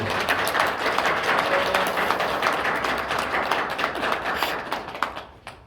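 A church congregation at a Korean Catholic parish on Laity Sunday claps in thanks for the priest, a sustained round of applause that thins out and fades toward the end.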